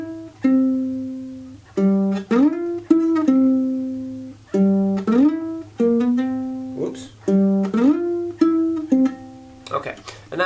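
An electric guitar plays a full song riff, with repeated bursts of picked notes and sliding chord shapes in a steady, looping rhythm, close and alone without speech.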